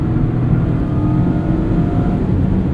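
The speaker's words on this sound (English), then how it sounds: "This engine is super revvy" A loud, continuous engine drone as a 2020 Mazda MX-5 Miata Club with manual transmission accelerates, with a steady high-revving hum throughout.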